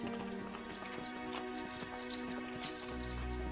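Shire horse hooves clip-clopping in a steady rhythm, heard over a sustained musical background at moderate loudness.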